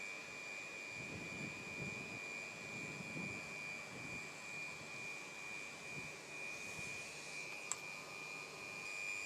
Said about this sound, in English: With the FEV machine running, we insert the nozzle, and we can see that the correct amount of pressure is set